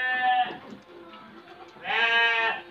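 Dorper sheep bleating in a breeding pen, two loud close bleats separated by a brief lull with quieter shuffling between them.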